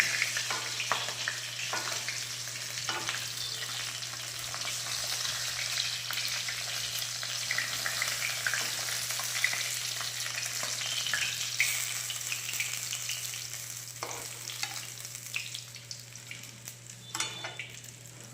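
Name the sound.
ground spice paste frying in oil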